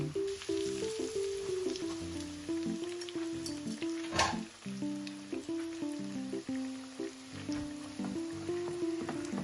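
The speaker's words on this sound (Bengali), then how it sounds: "সুবিধার জন্য চামচের মধ্যে অনেকগুলো একসাথে নিয়ে তেলে ছেড়ে দিচ্ছি" Gentle sizzling of potato nuggets frying in hot oil, a soft crackle beneath quiet background music.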